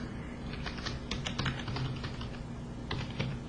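Someone types on a computer keyboard, giving quiet, irregular bursts of key clicks with short pauses between them and no talking.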